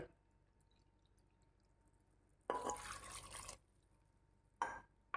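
Two bursts of broadband splashing water poured into a pressure cooker: a steady pour lasting about a second, then a shorter splash, with quiet stretches around them.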